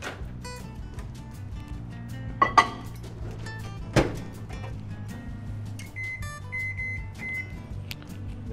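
A small cup of water heats in what sounds like a microwave oven: a steady low hum with a couple of sharp clunks early on and short tonal beeps toward the end, fairly quiet throughout.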